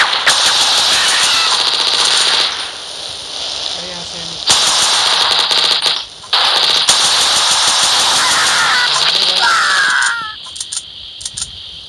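Rapid automatic gunfire in an online multiplayer shooter game roars in long, dense bursts with brief pauses between them, loud and close, while a player talks over it.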